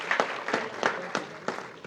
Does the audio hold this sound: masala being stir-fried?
no